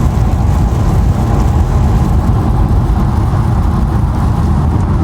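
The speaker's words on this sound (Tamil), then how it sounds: "இங்கால பாருங்க எப்படி மழை வந்து அடிச்சு ஊத்துதுண்டு" Heavy rain pours down on a road in Canada while a car drives through it, a dense, constant roar of water and tyre noise that fills the whole stretch with no voices.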